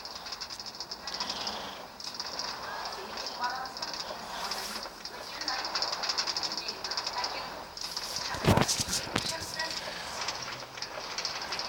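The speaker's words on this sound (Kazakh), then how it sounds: "Біз сіздерге вагончикпен жүзуді үйретеміз." A minecart rolls along rails in Minecraft, giving a continuous hissing rattle with a sharp burst near the end, while a player talks intermittently.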